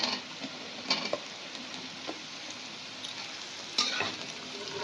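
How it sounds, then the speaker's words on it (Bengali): Chopped cauliflower fries in a pan with a steady, gentle sizzle, broken by a few sharp scraping clicks as a spatula stirs it; no one speaks. "তো আমার এখানে ফুলকপিটা হালকা হালকা করে ভাজা হচ্ছে।"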